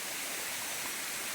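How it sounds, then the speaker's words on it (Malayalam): A small waterfall trickling down a narrow channel of clear water, giving a steady, soft, hissing rush that stays faint and even throughout. "വളരെ ചെറിയ ചാലായിട്ട് വന്നിരിക്കുന്ന വെള്ളച്ചാട്ടം"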